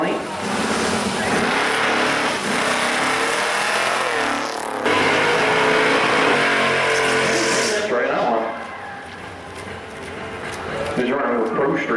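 A pro street drag race car, a 370 Nova in the left lane, launches hard at a strip event, its loud roaring engine dominating before easing slightly near the end, with an announcer talking over the noise.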